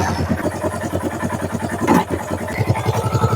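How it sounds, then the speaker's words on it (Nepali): Lightweight motorcycle idling close by, a steady rapid putter of engine pulses with a brief blip midway, loud and unaccompanied by talk. "फाइनली अहिले चाहिँ मैले यो हल्का बाइकलाई स्टार्ट गरिसकेँ"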